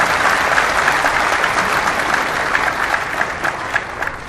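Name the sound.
audience applause at religious speech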